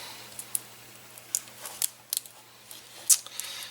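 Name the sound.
scissors trimming cardboard box craft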